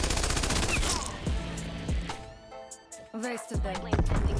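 PPSh-41 submachine gun firing in Call of Duty Cold War, heard as rapid, dense bursts of automatic fire with sharp, crackling shots and brief pauses between volleys.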